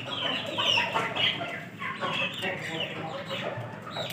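A rooster clucks repeatedly amid a busy farmyard din, with some voices audible in the background.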